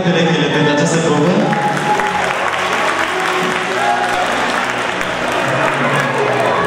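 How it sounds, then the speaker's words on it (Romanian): Audience applauding all the dancing couples after a competition round at a Dragobete show in Petrila: loud, continuous, dense clapping from a large crowd, holding strong throughout with a slight dip midway. "Haideți să aplaudăm toate perechile pentru această probă."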